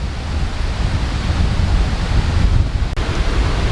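Loud, continuous rushing wind buffeting the microphone at Surya beach, mixed with the broad roar of rough surf past a small rocky inlet, steady throughout with no voices.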